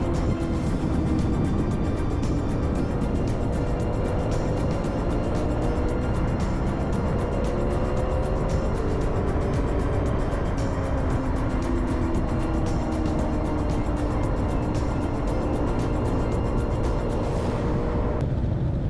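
A vintage motorcycle lapping a race track at the Vintage Motorcycle Days event gives a constant, loud engine drone with wind rush from start to finish, a steady onboard roar with no talking.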